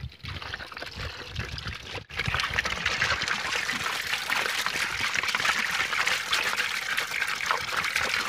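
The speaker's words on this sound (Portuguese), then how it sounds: "Vou colocar água também" Water pours steadily from an opened tap or hose into a trough for a cow on a farm, a continuous splashing gush that starts briefly, pauses, then runs on strongly and close.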